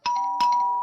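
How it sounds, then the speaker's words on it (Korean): A house doorbell is pressed frantically in a village during a tense audio-drama escape: two quick electronic chime strikes ring out close and clear, each leaving a sustained tone that hangs in the air. "가장 가까운 집으로 달려가 초인종을 미친 듯이 눌렀다"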